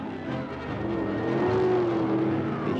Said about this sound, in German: Teufel besessener Wagen.